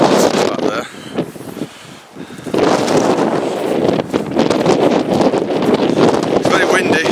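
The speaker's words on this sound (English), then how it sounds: "It's very windy." Strong wind roars and buffets the microphone throughout, a steady broadband rush with a brief lull, while a person talks over it outdoors.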